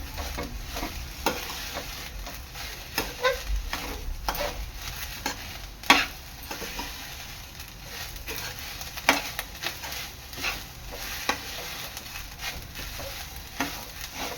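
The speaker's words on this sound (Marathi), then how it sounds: "आपल्याला तीळ आहेत ना हे चांगले खरपूस रंग येईपर्यंत भाजून घ्यायचे आहे" Washed sesame seeds roast in a pan over medium heat until golden for tilgul ladoo. A steady dry sizzle runs throughout, with frequent close scraping and stirring strokes and an occasional clink, no voices.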